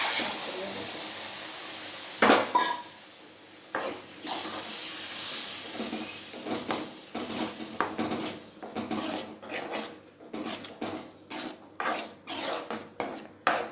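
Ground tomato paste hits hot oil in a pan for a spicy kara kuzhambu with bitter gourd, giving a steady hiss and sizzle broken by frequent clattering and scraping of a spoon against the pot.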